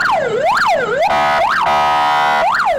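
A loud Ukrainian emergency rescue vehicle siren wails close by, sweeping up and down in repeated rising-and-falling cycles broken by a steady held tone, with no voices.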